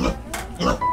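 A domestic pig raised by a family grunts and oinks in short, close bursts, with people talking nearby.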